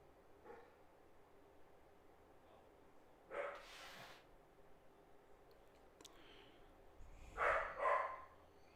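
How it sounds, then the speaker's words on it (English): A dog barks indoors in a couple of short, faint bursts, one a few seconds in and a louder double bark near the end, over quiet room hiss. "Sorry, the dog's barking there."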